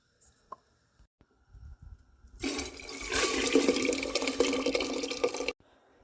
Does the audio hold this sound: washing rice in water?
yes